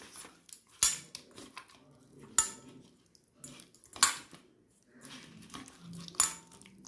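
Metal cutlery scraping and clinking against a dish as hilsa fish is mixed by hand with ground white and black mustard, green chilli and poppy seed paste, a few sharp clinks spaced apart over quiet soft rubbing.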